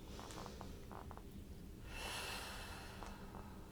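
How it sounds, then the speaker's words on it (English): Slow, audible breathing of a person during a gentle Pilates and yoga session, with a soft nasal exhale swelling in the middle over a quiet, steady room background. "the sound of your breath"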